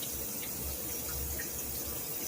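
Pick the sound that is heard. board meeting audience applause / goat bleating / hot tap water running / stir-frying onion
hot tap water running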